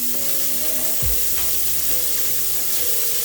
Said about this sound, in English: Then I'll go in with my onions as well as my ginger.